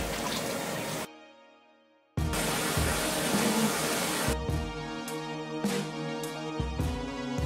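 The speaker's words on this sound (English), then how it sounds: "Once completed, I rinse it out." Running water rinsing 4C natural hair during a wash, a steady broadband rush that cuts out briefly then returns, continuing with small splashes and shifts near the end.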